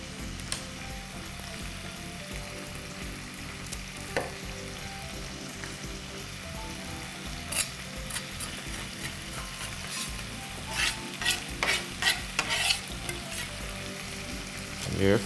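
Ham and chopped green chili peppers fry in a pan with a steady, close sizzle, while a spoon scrapes and stirs now and then; the clatter grows busier toward the end.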